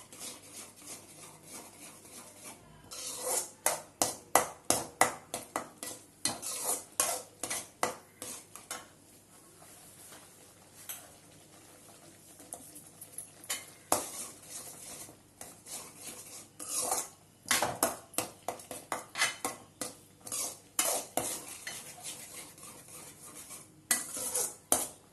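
A metal spoon scrapes and clanks steadily against a pan as rava and jaggery sweet is stirred, with dense rhythmic scraping bursts running close and fairly loud, with no talking.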